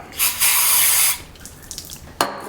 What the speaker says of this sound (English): brake clean again. We're going to go ahead and just pour it in the bore and let it pour out.